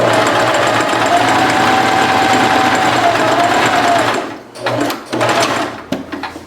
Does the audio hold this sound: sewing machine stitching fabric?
yes